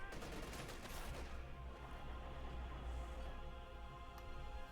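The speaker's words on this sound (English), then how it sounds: "Might have to retreat that machine gun now." Machine gun fire in the video game Company of Heroes 2 rattles in faint, rapid bursts, densest at the start, over a low steady battlefield background.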